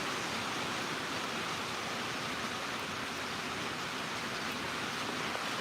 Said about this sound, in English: Yep, it's raining.